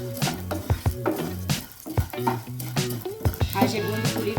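Edible gum (gond) puffing in a pan with very little or no ghee, stirred steadily, gives close sizzling and frying with repeated scraping and clinks of the spoon against the pan. A tonal hum sits underneath.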